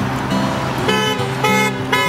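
Passing cars on a roadway honk their horns in several bursts, loud and close, some overlapping, over steady traffic noise.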